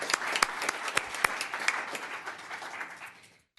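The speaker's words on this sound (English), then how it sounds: "So let's give a round of applause for Brayton." A round of applause from the audience at a town council meeting, a burst of scattered clapping that thins and fades out within a few seconds.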